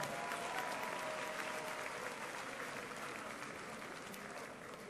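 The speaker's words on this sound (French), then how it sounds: "Les Gabonais, on acclame le Seigneur pour eux." A congregation applauds and cheers in a broad, steady wave of clapping that fills the room, near and sustained, with scattered voices mixed in.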